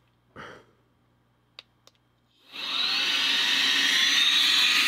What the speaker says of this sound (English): And when you put the little nozzles on like this, it makes a very powerful blower.